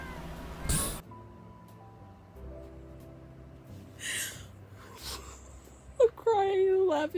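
Several cats meow in The Sims 4, with a near, rising-and-falling meow toward the end after scattered soft game sounds and brief rustles.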